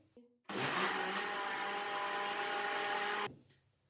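An electric blender whirs mango lassi made with mango, sugar and yogurt, starting abruptly after a brief clack, holding a loud steady roar for about three seconds, then cutting off.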